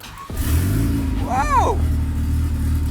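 A turbocharged single-cam Honda CRX engine catches on its first start, cranking briefly before firing into a loud, steady idle with one sharp rising-and-falling rev in the middle, close to the microphone.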